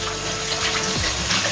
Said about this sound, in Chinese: 我们就把这个面倒进去冷水里面